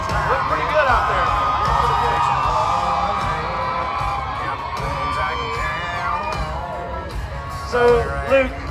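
A festival crowd at BottleRock cheers and whoops, a dense wash of shouts and yells that holds steady throughout, with a brief louder swell near the end. Voices talk close by over the crowd.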